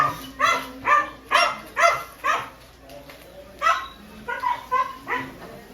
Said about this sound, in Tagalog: May aso akong maingay.